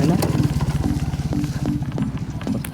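A motorcycle is ridden roughly, its engine throbbing in a fast, steady pulse close by throughout, with a few sharp knocks over the running drone.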